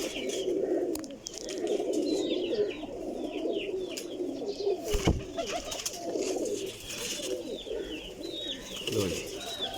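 Pigeons coo and call repeatedly nearby, soft throaty bursts scattered through the clip alongside a brief flutter, while someone talks over them at a pigeon loft.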